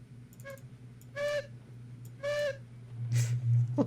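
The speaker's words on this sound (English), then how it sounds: "The worst whistling ever." A train whistle in the Railroads Online game gives several short, tonal toots, each a little longer than the last, over a steady low engine hum, followed by a breathy hiss.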